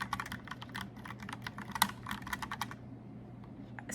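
A mechanical keyboard with round keys is typed on in fast, bouncy bursts of crisp clacks up close, then the typing stops near the end, leaving quiet room tone.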